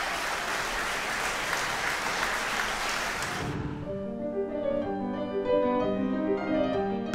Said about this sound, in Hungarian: az Európa Tanács vezető tisztségviselői állva tapsoltak